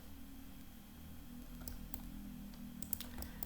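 Keystrokes on a computer keyboard entering a distance value while drafting in LibreCAD, a few light, scattered clicks near the end over a steady low hum.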